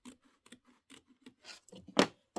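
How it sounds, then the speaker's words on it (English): Scissors trimming fabric for a quilted mug rug: a quick run of soft, close snips and rasping blade slides, ending in one louder cut, with no talking. "we're going to trim, and then it becomes my placement line"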